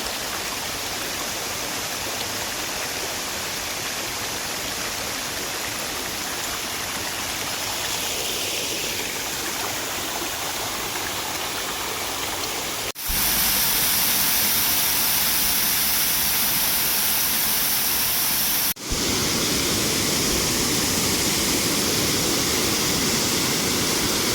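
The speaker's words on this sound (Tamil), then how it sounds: "இங்கே ஒரு பெரிய வாட்டர் ஃபால்ஸ் இருக்குது." A large waterfall roars in a continuous dense rush at Agasthiyar Koodam in the forest, close and loud throughout, swelling even louder for a stretch in the middle.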